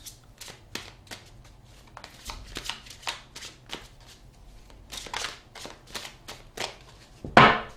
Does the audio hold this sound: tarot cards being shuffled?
yes